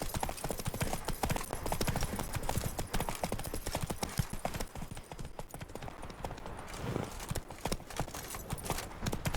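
Hooves of a galloping horse, Roach, in The Witcher 3 video game, a fast, steady clip-clop rhythm running throughout with background ambience and brief faint voice.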